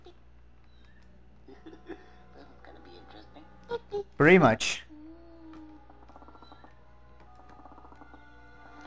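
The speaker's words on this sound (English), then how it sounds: "that was a cat?" A short, harsh cat yowl from Conker's Bad Fur Day, a single strained meowing cry lasting under a second that stands out over quiet game ambience, with brief speech nearby.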